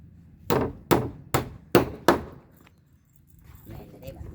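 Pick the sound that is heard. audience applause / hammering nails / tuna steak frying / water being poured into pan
hammering nails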